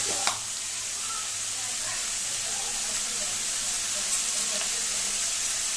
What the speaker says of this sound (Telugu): చికెన్ బాగా ఫ్రై చేసుకోవాలి